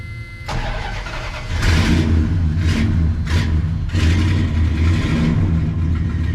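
A 1989 Dodge truck with a 318 V8 cranks and catches, then settles into a deep, steady idle with a few throttle blips, close and loud.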